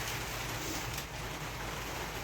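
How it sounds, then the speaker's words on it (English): Steady, even rain falls outside a cabin in the countryside, a dense continuous hiss with no talking. "I'm getting myself inside out of the rain."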